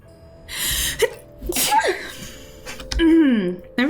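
A sneeze during a Divinity: Original Sin 2 game stream, loud and close with a sharp burst, set against game music and a voice.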